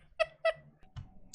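A cat gives two short, clear meows in quick succession, close by, followed by faint shuffling and a soft thump.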